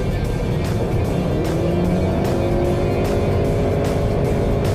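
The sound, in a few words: Honda CR-V Hybrid single-ratio transmission noise when accelerating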